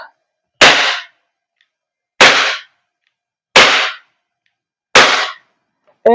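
Four sharp, loud single shots from a WE Glock 17 Force Series T5 airsoft pistol firing 0.20 g BBs at a target about 2.5 meters away, evenly spaced with silence between each pop.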